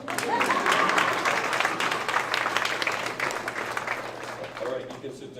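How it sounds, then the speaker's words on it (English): A banquet crowd at a basketball team celebration claps together in a dense, sustained round of applause that slowly thins toward the end. "You can clap for them."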